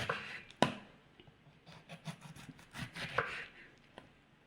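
A knife slices a pineapple into thin pieces on a board, with a few sharp close taps among softer, steady cutting strokes.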